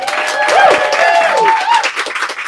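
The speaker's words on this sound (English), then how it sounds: "we all have to do a lot of clapping for Rex." An audience at a book event applauds, sustained clapping from a crowd with whoops and voices over it, loud and close throughout.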